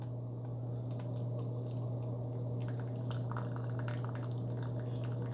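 Keurig K Supreme Plus coffee maker dispensing coffee, a steady close liquid stream and gurgle over a constant low machine hum, tapering off, with no talking.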